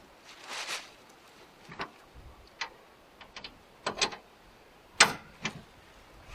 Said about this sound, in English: Sometimes you can rock the machine just a little bit and get it to go on there and then just kick it on.